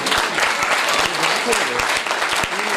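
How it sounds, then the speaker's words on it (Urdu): A church congregation applauds loudly for a long unbroken stretch, a dense wash of many hands clapping with some louder claps standing out, and a voice is heard beneath. "ان کے لیے زوردار تالیاں بجا سکتے ہیں"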